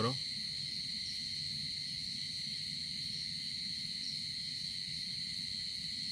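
Night forest ambience in Odisha with constant high insect drone and a faint, distant bird call sounding at the very start, then steady hum of crickets throughout.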